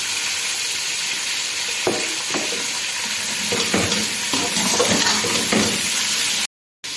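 Minced meat fries with onions in a pan with a loud, steady sizzle, broken by a series of scraping and tapping stirring strokes toward the middle, before it cuts off abruptly near the end.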